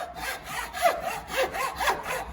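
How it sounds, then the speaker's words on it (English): Saw cutting down a wooden knife handle on an Old Hickory knife: rhythmic rasping strokes back and forth, close and moderately loud, about five strokes in quick steady succession. "we're gonna cut this handle down a little bit"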